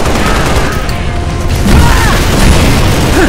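Several grenades blow up right at a player's feet in the Halo: Reach campaign, a dense rumbling burst of booms and crackling blasts that swells louder in the second half, filling the whole clip.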